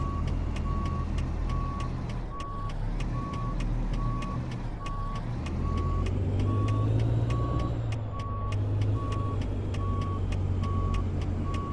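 A truck in American Truck Simulator backing a trailer, with a loud, regular reversing beep repeating steadily over a constant engine rumble that swells partway through.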